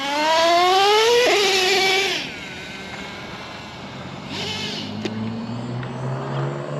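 Small nitro engine of a Traxxas T-Maxx RC truck, revved to a high buzzing whine that falls back to a rough, steady idle, with a brief second burst of throttle; loud and close.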